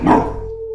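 A dog gives one sharp, close bark that trails into a short tonal whine, loud and alone with no talk over it.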